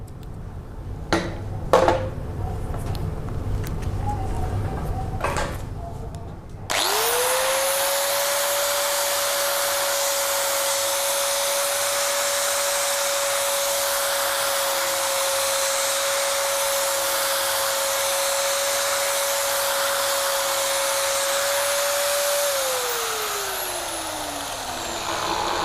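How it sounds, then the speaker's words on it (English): An angle grinder fitted with a mini turbo plane spins up sharply and runs at a steady high whine while sanding on emery cloth, then winds down, preceded by a few handling knocks. "I'm going to run it on the emery cloth or the sandpaper and clean up the outside edge right up to the vertical"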